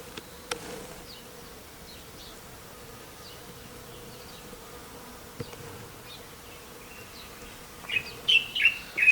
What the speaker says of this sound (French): On entend les abeilles butiner.